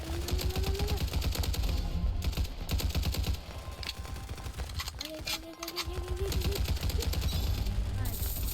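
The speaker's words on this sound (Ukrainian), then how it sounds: "Зараз використовую таку зброю. А працює така зброя." Rapid weapon gunfire in the Roblox game Hypershot, dense rattling bursts of repeated shots that pause briefly midway, with a voice speaking over the fire.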